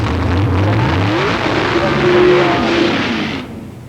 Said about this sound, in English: That practice launch, the dry hop as they call it, just getting everything settled for the race.